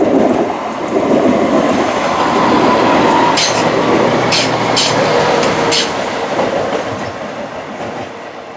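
A train passes on the Midland Main Line near Syston, a steady loud rumble with clickety-clack wheel beats and a few bright squeals midway, fading slightly toward the end.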